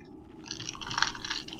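Close, wet chewing and crunching right at the microphone, soft and irregular, over faint game background during an online raid.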